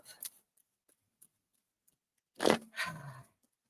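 Tarot cards being shuffled: a quick soft riffle near the start, then two louder papery bursts of card shuffling around the two-and-a-half second mark, close and clear with no talk.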